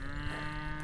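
A one-year-old heifer gives a long, steady, drawn-out moo while searching for her calf on a rural farm, close and loud, with no one talking over it.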